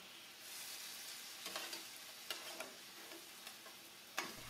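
Marinade sauce with brown sugar, ginger and garlic reducing in a hot pan for a beef and shrimp stir fry, a steady faint sizzle broken by a few soft scrapes of stirring.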